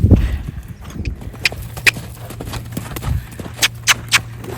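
Horses moving around loose in a paddock while another horse stands tied nearby, with scattered hoof thuds and brief squeaky calls rising over a steady low hum, fairly faint and distant.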